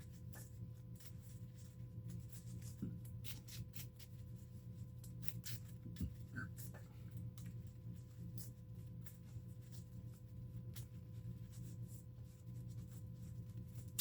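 A deck of game cards is shuffled during a tabletop card game turn. It makes soft, steady papery riffling and rubbing over a constant low room hum, with a few brief louder flicks and no talking.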